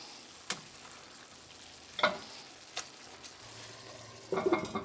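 Burgers simmering in a thickening slurry in a cast iron pan, a faint quiet bubbling and sizzle punctuated by a few sharp utensil clinks and scrapes, no talking.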